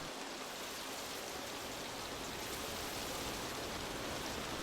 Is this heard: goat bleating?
no